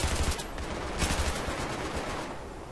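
Rapid automatic gunfire in the video game Battlefield 3, a loud burst of closely spaced shots with dense rattling bursts early on and around one second, trailing into a rough, noisy tail.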